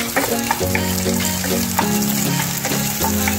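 Sausage and egg frying together in a pan, a loud continuous sizzle with a steady hiss and some bubbling, close up and with no talk.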